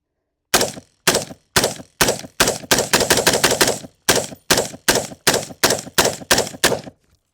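Rapid gunfire from a PSA Sabre-10 .308 AR10 rifle with a 16-inch barrel, a series of loud, sharp close-range shots, first singly and spaced, then in quick clustered bursts, with brief silence between them.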